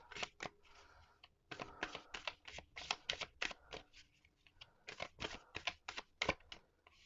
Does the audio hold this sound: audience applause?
no